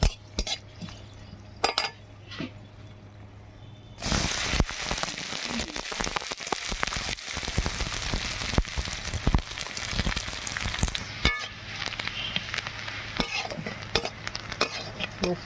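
Boiled water spinach greens hit hot oil in a pan with a sudden steady sizzle and scraping stir that lasts several seconds, then eases, with clinks of utensils before and after.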